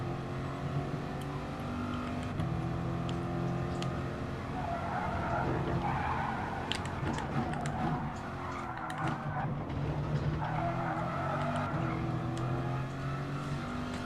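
Race cars in the GT Sport video game brake hard and skid, with sustained engine drone, rising and falling revs and bursts of tyre squeal across the whole stretch, loud and continuous.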